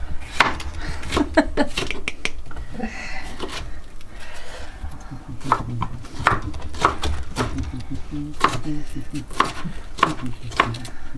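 Rapid knife chops dicing a bell pepper on a cutting board, a steady series of sharp knocks with brief pauses, close by in a kitchen.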